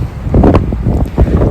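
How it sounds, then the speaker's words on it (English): Strong wind on a dark, cold November night in the woods, gusting and buffeting the microphone in short bursts, loud and close, with a faint rustle underneath. "Welcome to a very dark, cold, and extremely windy November night."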